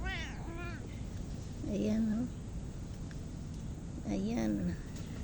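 A cat meows twice, close and clear, with long pauses between calls, over steady background noise and a person talking.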